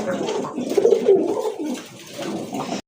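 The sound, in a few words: pair of pigeons cooing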